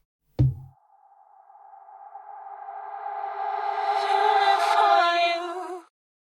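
A short hit, then a reversed reverb tail swells gradually louder over several seconds before cutting off abruptly.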